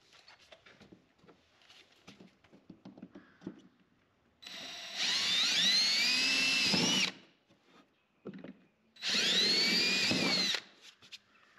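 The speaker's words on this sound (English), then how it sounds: "So these two holes right here that we're going to have to drill, those are going to be a quarter inch." A power drill bores quarter-inch holes in a Polaris Ranger utility vehicle, sounding in two loud, whining bursts of about two seconds each, separated by quieter handling noises.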